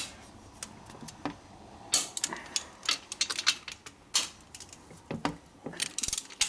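Socket wrench ratcheting while tightening on a 1961 Harley-Davidson XLCH Ironhead Sportster motor during an engine rebuild, quick clicking pawl strokes in uneven bursts, close and fairly quiet, with no talking.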